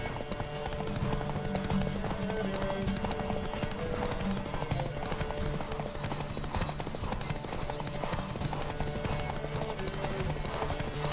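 Horse galloping in a race in The Witcher 3, a fast continuous clip-clop of hooves driving steadily throughout, loud and close, with game ambience underneath.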